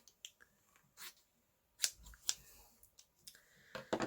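Scissors snip through fabric being halved for binding shibori, a few sharp, close crisp cuts scattered among faint rustles and handling noises in a quiet room.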